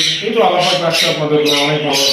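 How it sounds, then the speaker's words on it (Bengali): Caged birds at a bird market squawk in harsh, repeated bursts close by, running over and between people talking nearby. "জাকির ভাই এখানে অনেকগুলো পাখি দেখতে পাচ্ছি"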